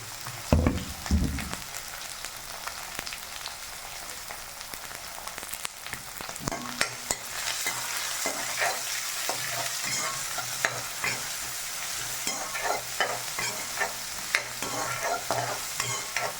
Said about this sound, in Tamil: வெங்காயத்தை மட்டும் வதக்கினா போதும்